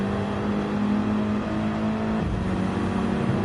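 A BMW race car in a Gran Turismo-style racing game at the Nürburgring GP circuit, its engine droning steadily and loudly with a sustained pitch that shifts partway through, racing sounds continuous with no talk.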